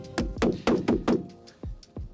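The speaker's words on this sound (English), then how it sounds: "I'll tap it on." A series of firm taps and thunks as a fresh door seal is tapped into place on a Land Rover Defender: four quick evenly spaced knocks followed by two softer ones, close up with no talking.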